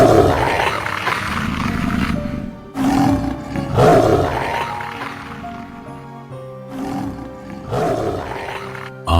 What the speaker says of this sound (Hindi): एक गगनभेदी दहाड़ गूंजती है।